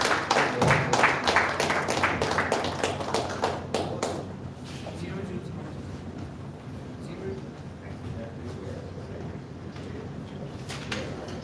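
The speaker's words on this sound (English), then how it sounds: "Ladies and gentlemen, please give them a round of applause" Audience applause at a live college event: a burst of many hands clapping, loud at first, then fading into a quieter room murmur with scattered claps and distant voices.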